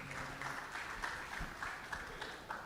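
An audience claps in applause for the Social Democratic Party presidential candidate at a national electoral reforms summit; the clapping is faint and steady, with a voice murmuring underneath.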